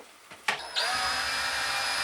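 A power drill whirs steadily as screws are backed out of a ceiling fan during a replacement, a brief rattle and handling clicks first, then a sustained motor drone close to the microphone.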